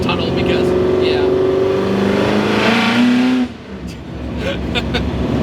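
A Ford GT40 in Ken Miles livery revving its engine inside a tunnel, a loud rising engine roar with echoing reverberation that cuts off abruptly, followed by a quieter rumble as the car settles.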